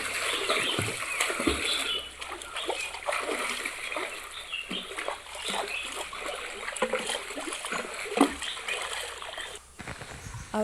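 A girl swims in a pond, producing repeated close splashes and water slaps in an irregular rhythm, with faint background sounds between strokes.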